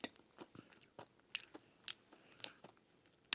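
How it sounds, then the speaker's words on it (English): Crunchy Filipino snack being bitten and chewed up close, a string of sharp, separate crunches at an uneven pace, quiet between bites, with no talking. "This is really good. It's crunchy."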